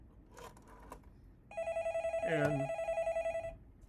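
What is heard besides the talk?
analog telephone ringing via ATA phone line simulator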